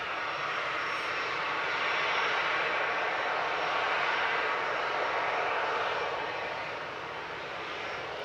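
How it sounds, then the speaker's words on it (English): Ryanair Boeing 737-800 jet lining up for takeoff at Manchester Airport in the evening, a broad, steady engine hiss and rumble at moderate distance that swells slightly and then settles, heard alone. "Ryanair lining up, heading off to Shannon. Flight 4776 EIDYW 737-800."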